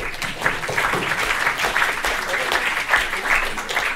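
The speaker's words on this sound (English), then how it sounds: "So give them a round of applause." Attendees at a web programming workshop applaud for the helpers, a brief, steady burst of clapping lasting a few seconds, fairly close and loud.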